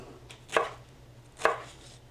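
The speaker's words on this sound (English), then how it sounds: "Now I've got a lot to cut here" Two sharp knife chops on a cutting board, spaced about a second apart, while vegetables are cut for a breakfast casserole; close and crisp over a faint low hum.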